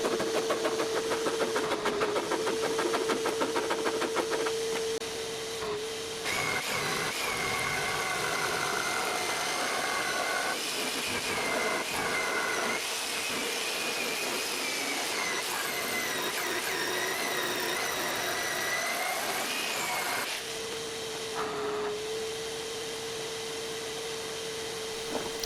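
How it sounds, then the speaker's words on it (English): A jigsaw cuts reject wood from a wood pile while shaping a full-size surfboard wall art piece, a loud, continuous buzzing rasp that runs steadily throughout. "you'll see me cutting down again with the jigsaw"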